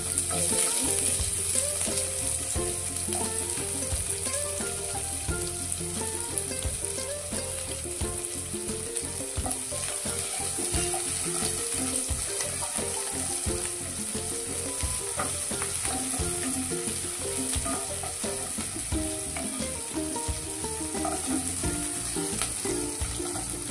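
Cumin and mustard seeds fry in hot oil for poha, a continuous sizzle and crackle with faint stirring scrapes and a steady background hum, with no speech.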